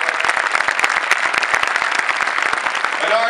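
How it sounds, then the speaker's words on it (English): Audience at a Nassau County State of the County address gives a dense round of applause, many hands clapping steadily and loudly for the whole stretch. "Let's give a big round of applause."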